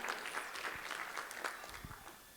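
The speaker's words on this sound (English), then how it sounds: "A big round of applause for Nikki." Modest audience applause for Nikki, the dance mom, at a Dancing With The Piqua Stars dinner performance, a scattered patter of claps that stays fairly steady and moderately quiet throughout.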